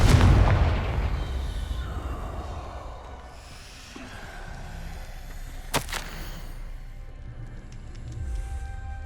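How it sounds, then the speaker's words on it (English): A Confringo fire blast spell bursts in Hogwarts Legacy gameplay, opening with a heavy booming explosion that decays into rumbling combat noise, followed by a sharp crack near the middle and scattered effects. "Confringo!"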